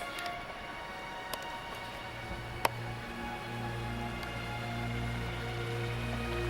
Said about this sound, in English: So you can hear this beautiful river behind me.